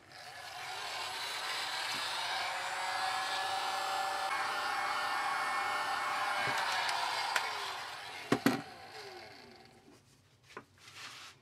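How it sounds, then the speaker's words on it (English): Heat gun blowing hot air over a waxed leather strop used for honing new chisels, a steady loud airy roar lasting about eight seconds, then cutting off with a few clicks and knocks. "I'm going to hit it with the heat gun a little bit to soften it up."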